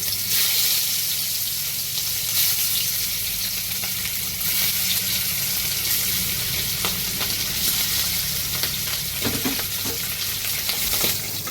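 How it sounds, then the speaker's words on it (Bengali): Hilsa fish pieces frying lightly in a hot pan, a dense, loud, steady sizzle with occasional soft taps and pops. "আমি এবার হালকা করে ভেজে নেব। কড়া বসিয়ে দিয়েছি, একে একে মাছটা আমি দিয়ে দিচ্ছি"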